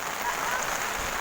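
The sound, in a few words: heavy rain at Mount Samat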